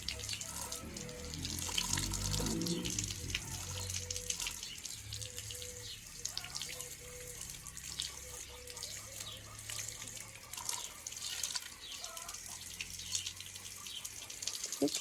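Water runs steadily while a child's scooter and bicycle are washed outdoors, a faint continuous splashing and trickle with soft dripping and faint voices in the background.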